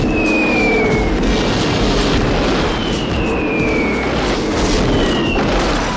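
A ship full of women and children comes under machine-gun fire and explosions in a war film, making a dense, continuous roar of gunfire and blasts with whistling sweeps, loud and close throughout.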